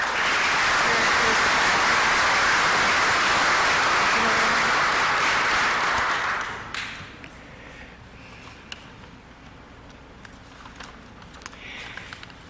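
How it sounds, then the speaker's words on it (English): A hall full of people at a civic association annual meeting claps loudly for about six seconds before the applause drops off quickly, leaving a quiet room with a few stray claps and small noises. "Please join me in another round of applause"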